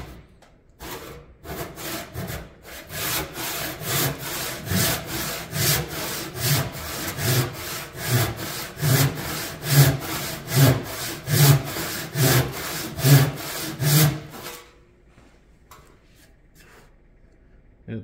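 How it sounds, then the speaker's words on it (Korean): A hand saw cuts through wood with a steady back-and-forth rhythm of rasping strokes, close and loud, speeding slightly before stopping abruptly. "톱질을 해줘요."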